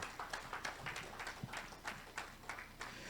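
A church congregation claps in a slow, steady rhythm, about a dozen distinct clap bursts spaced evenly, moderately faint with room echo and no talk.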